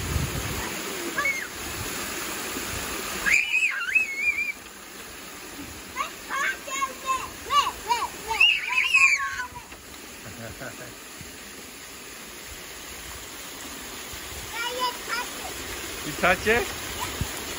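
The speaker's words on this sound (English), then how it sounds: "Whoa, it's splashing everywhere." A double waterfall water feature at Cerritos Library splashes and rushes continuously, a broad wash of falling water under excited children's voices and chatter that come and go over it.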